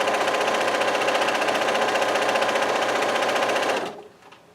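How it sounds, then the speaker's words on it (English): A sewing machine stitches jelly roll quilt strips in a steady, fast continuous whir for most of the stretch, then stops abruptly near the end, leaving only faint handling noise. "I'm just going to sew a little bit further till we get to the end"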